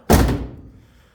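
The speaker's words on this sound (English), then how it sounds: "There's hardly any movement in that door. And watch how it closes." A door on a 1976 Camaro swings shut with a single solid, close thunk, followed by a short fading resonance.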